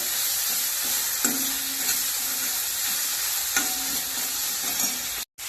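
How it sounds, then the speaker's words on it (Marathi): Coriander and softened tomato sauté in a hot pan, a steady close sizzle with a few spatula scrapes and stirs, cutting out briefly at the end. "कोथिंबीर परतून घेऊया"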